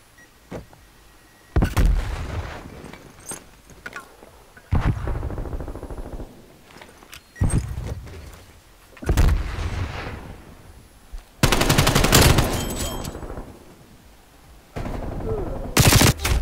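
LC10 submachine gun fire in a multiplayer shooter game, with several sharp automatic bursts of varying length separated by short pauses, loud and close, with faint game sounds in between.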